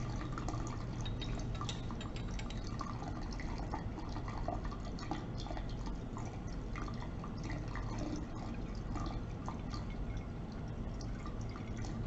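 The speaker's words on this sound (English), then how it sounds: "So I'm going to drain it to a aluminium flask." An organic solvent layer drains from a separation into an aluminium flask during a steam distillation lab, producing a steady close trickle and splash of liquid with a constant low background hum.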